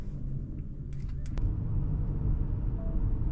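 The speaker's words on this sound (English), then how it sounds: "let's take this car for a drive" A 2024 Audi A6 Limousine S Line with a 204 HP engine pulls away on a drive, a low steady rumble of engine and road noise inside the cabin with a few faint clicks near the start.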